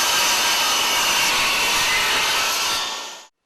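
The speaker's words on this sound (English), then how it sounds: "So I'm going to go ahead and pull my veneer off here, but I'm going to pull it off thick." Power saw ripping a thick veneer slice, roughly 3/8 to 1/2 inch, off a board of lumber, a loud steady broadband cutting roar lasting about three seconds before abruptly stopping.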